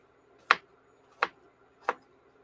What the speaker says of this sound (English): I'm just chopping up one apple into little chunks.